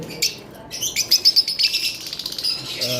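Lovebirds kept alongside conure chicks give a run of rapid, shrill chirps and calls, a quick burst of repeated sharp notes in the middle with softer chatter around it, close and fairly loud.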